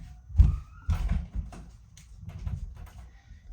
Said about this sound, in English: let me lock the door